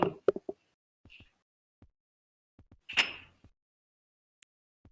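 A door is pushed shut with one firm thud and rattle, surrounded by scattered soft knocks and shuffling clicks in an otherwise quiet room.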